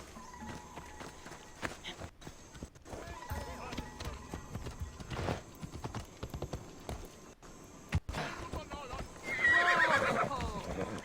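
Horse in the video game Assassin's Creed Odyssey whinnies loudly near the end, with steady hoof clip-clops throughout and background game ambience; a voice talks intermittently.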